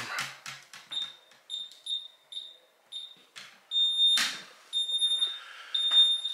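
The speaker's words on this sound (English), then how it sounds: "Go ahead and set this alarm." A house security alarm keypad being set beeps in a steady series of short, bright, close tones, rising to longer beeps near the end over faint room noise.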